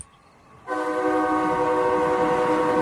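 A train rolls past loudly after a brief quiet start, a steady rumbling roar with a sustained horn-like tone running through it.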